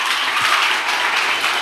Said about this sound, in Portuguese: Pode aplaudir, é isso aí mesmo.